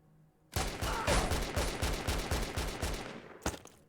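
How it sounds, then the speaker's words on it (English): Sustained burst of automatic gunfire fired through a wall in the video game Stalker, loud and steady for about three seconds, then a last sharp shot after a brief gap. "This guy's shooting me through the wall?"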